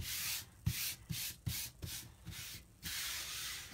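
A hand rubs and smooths a large silk screen transfer against a surface in short, repeated swipes, a soft close-up hissing scrape with brief pauses between strokes.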